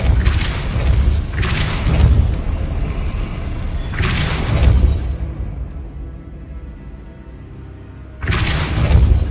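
Depulso force spell being cast in Hogwarts Legacy, several heavy booming blasts with whooshing tails recurring every couple of seconds, loud and close, with a quieter gap before the last one.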